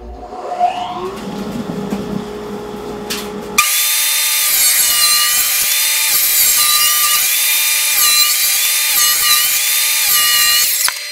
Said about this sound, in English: I'm going to rip this piece of 3 quarter inch plywood down into 3 inch strips